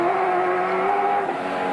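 Onboard engine of Win Percy's touring car racing at Bathurst, a loud sustained roar with steady harmonic whine held at high revs and a slight dip near the end, no talk.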